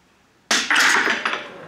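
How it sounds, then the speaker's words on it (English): A plastic water bottle partly filled with water, with an air gap at the top, is tapped on top to demonstrate a water hammer effect, giving a couple of sharp, close knocks followed by a brief ringing clink, with no talking. "I actually brought a demonstration to show this water hammer type effect"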